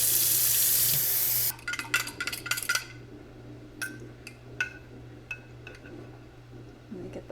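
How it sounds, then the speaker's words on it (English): Water running from a tap into a jar of mashed garden tomatoes, a loud rush that stops abruptly, followed by light clinks and knocks of glass and utensils in a kitchen. "So I'm going to add a little bit of water."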